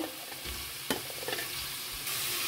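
Onion, carrot and tomato fry in a pan for a dill-leaf pulao. A steady close sizzle runs throughout, with scraping stirs and one sharp clatter near the middle.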